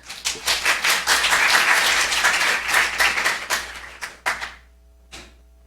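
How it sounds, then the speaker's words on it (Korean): Symposium audience applauds to welcome the Hankyoreh newspaper editor as he takes the stage. Lively, close clapping builds, holds, then thins after about four seconds into a few scattered final claps before near silence. "큰 박수로 환영해 주시기 바랍니다"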